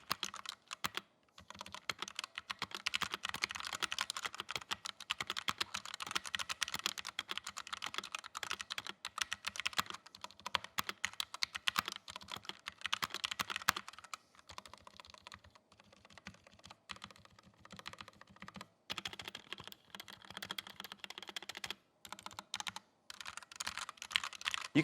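Redragon K599 keyboard with red linear switches being typed on steadily, a close, continuous patter of quick keystrokes with brief pauses and no talking.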